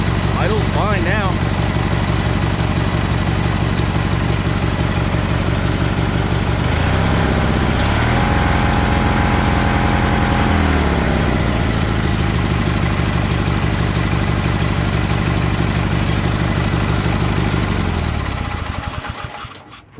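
A Simplicity mower engine fitted with a cheap Chinese replacement carburetor, its throttle linkage held by a spring, idles loud and close with a steady rumbling chug for about nineteen seconds, then cuts off.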